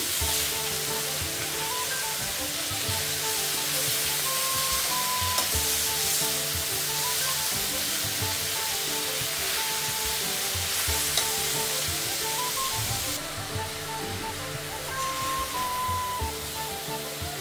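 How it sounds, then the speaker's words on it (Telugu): Amaranth leaves stir-fried and tossed in a hot pan with dried red chillies, giving a steady, close sizzle and frying hiss with soft stirring scrapes throughout, no voices. "ఇలా తోటకూర వేసుకున్న తర్వాత కిందకి పైకి కలుపుకోవాలి."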